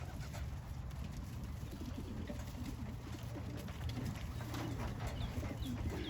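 Young pigeons let out to fly for the first time give soft, low cooing calls over a steady outdoor hum, faint and continuous at a distance.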